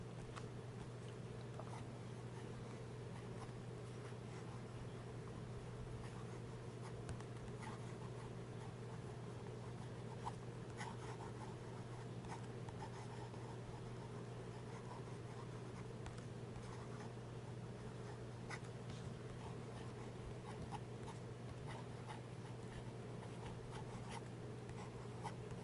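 A Montblanc 149 fountain pen with an oblique medium nib scratches steadily across paper, a close, continuous soft rasp with faint strokes, over a low constant hum.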